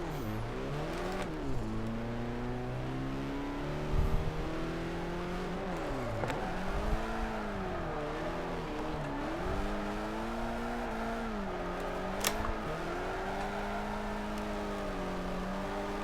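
A race car engine in Forza Motorsport 4 revs and wails through a drift run, its pitch repeatedly climbing and dropping as the throttle is worked, loud and continuous with occasional sharp clicks.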